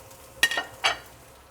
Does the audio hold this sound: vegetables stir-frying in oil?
yes